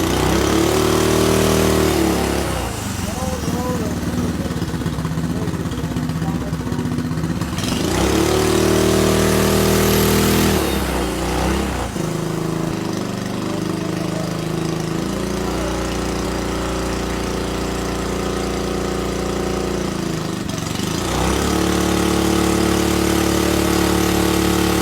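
A turbocharged engine runs on a dyno, loud and sustained, swelling into higher revving pulls several times between steadier running stretches.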